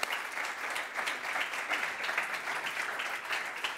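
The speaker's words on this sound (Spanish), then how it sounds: "Un aplauso, por favor." Audience applause at a conference on data in the digital era, a steady, dense clapping from a crowd that holds evenly for several seconds with no speech over it.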